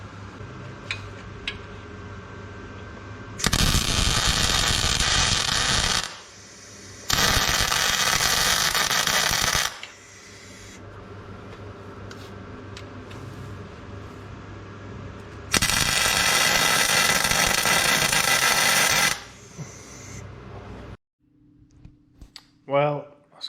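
A Landcruiser radius arm conversion gets MIG tack welded in a workshop, with three long bursts of loud crackling, hissing arc noise separated by quieter stretches of shop hum, then scattered clanks at the end.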